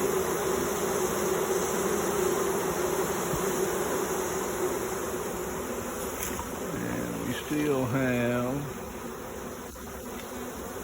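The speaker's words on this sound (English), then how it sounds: "You can see these bees on the box, fanning. You can hear them." A swarm of honeybees buzzes and fans around a hive box, a dense continuous drone close by, with someone speaking briefly over it near the end.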